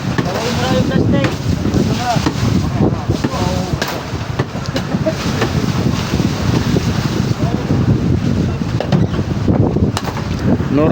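Strong north wind buffets the microphone in a constant loud rumble near Infanta, Quezon, with voices talking underneath and a hint of water and a boat.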